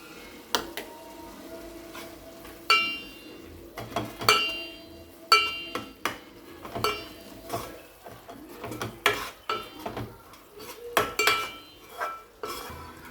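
Ground coriander, chili powder and coconut powder are stirred into a fish curry in a pan, with repeated metal spoon scrapes and clinks against the pan in an irregular rhythm, fairly close and moderately quiet.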